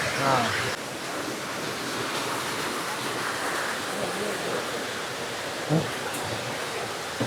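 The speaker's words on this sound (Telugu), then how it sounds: "చూసారా, ఇదే నేను చెప్పిన వాటర్ ఫాల్స్." Rushing water roars as a continuous broadband wash from a nearby rain-fed waterfall in Araku, with a few brief bumps and wind buffets on the microphone.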